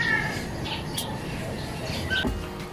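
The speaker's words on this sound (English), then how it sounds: "I can hear the chirping of the birds." A few short bird chirps and squawks ring out over a low outdoor rumble, scattered and moderately close.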